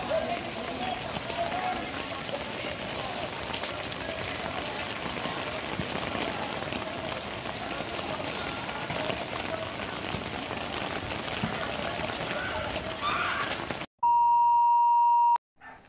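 Heavy rain pours steadily during flooding in the Philippines, a dense, continuous hiss, ending with a brief electronic tone.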